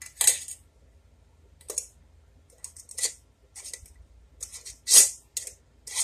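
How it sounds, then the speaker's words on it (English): A metal lid set onto a glass canning jar of butter gives a string of short, bright metallic clicks and clinks, with one louder clink near the end, close by and alone. "You just put your lid on."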